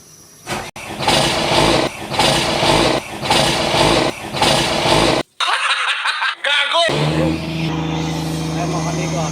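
A boat engine starts after a repair, first cranking in rhythmic bursts, then coughing to life and settling into a steady running hum, close and loud.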